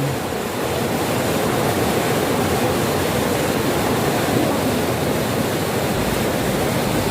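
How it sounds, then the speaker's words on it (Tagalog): River water rushing steadily near Aurora Falls in Nueva Ecija, a loud continuous broadband roar that fills the whole clip without pause, with no voices over it. "Ilog dito."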